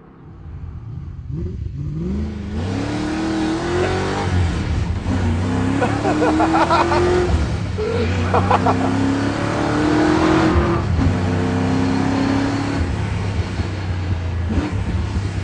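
A Mazda RX-7 hot rod accelerates hard through several gears, its engine note climbing and dropping with each shift, loud and close for the whole stretch.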